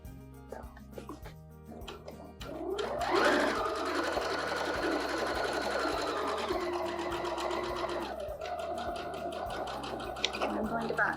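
A sewing machine runs steadily while stitching a shopping bag, including a short back-stitch. Its motor hum and rapid needle rhythm are close and continuous, with someone talking over it.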